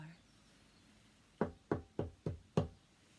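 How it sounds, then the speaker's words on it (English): Five sharp knocks on a wooden shack door come close and loud in a quick, fairly even series after a short quiet stretch. "One day, there was a knock on the door."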